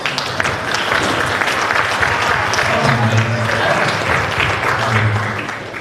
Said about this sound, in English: give Chief and Chief a round of applause for their first SillFacts